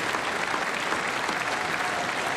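A short burst of steady crowd clapping at the State of the Union, continuous and uniform throughout with no speech over it.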